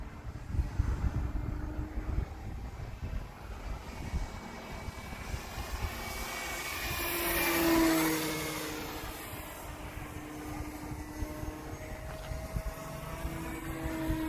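A small battery-powered RC model airplane buzzes overhead, swelling louder as it passes by, then fading to a steady distant drone over background rumble.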